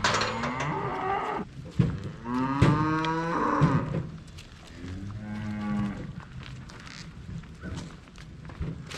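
A black cow moos loudly several times at close range, deep drawn-out calls with other cattle lowing among them and faint hoof and farm noise underneath.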